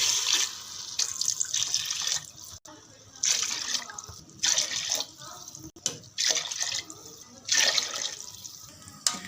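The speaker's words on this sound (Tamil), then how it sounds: "நான் இப்போ ஒரு ஆறு கிளாஸ் தண்ணி சேர்க்க போகிறேன்" About six glasses of water pour and splash into a pot for mutton biryani in several bursts separated by short pauses, close and fairly loud.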